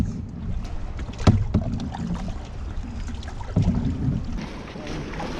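Paddle strokes splash and thump on water during a sailing trip from Palermo to Cefalu, Sicily, two distinct strokes standing out over steady wind and water wash, close to the microphone.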